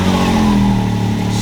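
A 2020 Can-Am X3 RC side-by-side engine, just back from a misfire with a coil unplugged, running steadily at a close, loud idle with an even, rumbling tone throughout.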